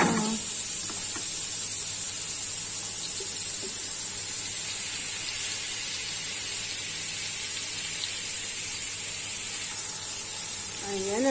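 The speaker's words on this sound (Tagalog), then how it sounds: "Tapos ilagay ko na rin ang sibuyas." Chopped onions sizzle in a pan of hot oil for a Filipino macaroni dish, a steady, even frying hiss that holds unbroken throughout.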